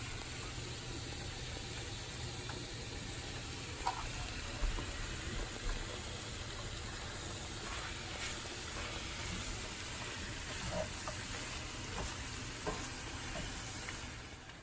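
Madurai-style mutton chukka fries in an iron pan with garam masala and fresh pepper powder, producing a continuous close sizzle with occasional stirring scrapes and no talk.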